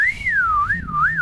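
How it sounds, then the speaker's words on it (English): A person whistles a short wavering tune alone, close and clear, the pitch sliding smoothly up and down in a few loops. "See, I can whistle."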